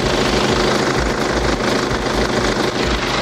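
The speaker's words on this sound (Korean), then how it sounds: "영상으로 엔진 소음 한번 담아보도록 하겠습니다" A BMW 5 Series diesel engine idles with its bonnet open, a loud, close, continuous low rumble with a fine rhythmic clatter and no voices.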